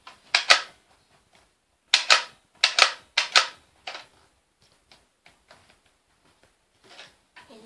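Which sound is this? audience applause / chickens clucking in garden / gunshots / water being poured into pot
gunshots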